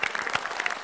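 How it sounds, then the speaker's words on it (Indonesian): Brief burst of audience applause for Bianca on the Indonesian TV talk show Galau Nite, a dense patter of claps from a studio crowd, fairly soft and cut short. "tepuk tangan dulu dong untuk Bianca"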